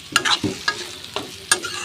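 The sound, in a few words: frying potol (pointed gourd) and potato in a pan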